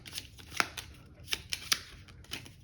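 Troll cards for the board game In the Hall of the Mountain King being shuffled by hand, a series of crisp riffling snaps and flicks, close and fairly quiet.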